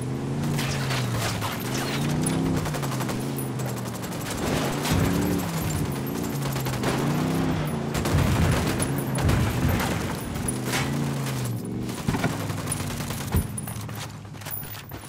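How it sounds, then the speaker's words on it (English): Sustained gunfire from a Ghost Recon Wildlands firefight: rapid, loud automatic bursts and shots overlapping continuously over a low rumbling game backdrop, with no pauses across the stretch. "Opening fire on these fuckers."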